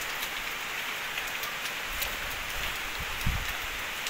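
Steady rain hisses across the whole clip, with a few louder drops or taps standing out near the end.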